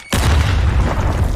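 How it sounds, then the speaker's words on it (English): A grenade explodes in a Call of Duty 1v1 gunfight match with one sudden, loud, close boom, followed by a heavy rumbling tail that lasts over a second. "Nade is out."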